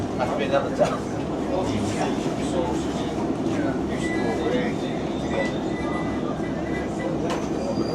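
A Dales Rail passenger train pulls into Settle station, a steady rumble and rattle of wheels and carriage with occasional squeals, heard from on board, loud and continuous.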